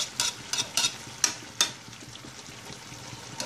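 Moringa leaves are stirred in a cooking pot for a Filipino dish of coconut milk and dried fish: several quick, close scraping strokes early on, then a softer, steady simmering bubble with no talk.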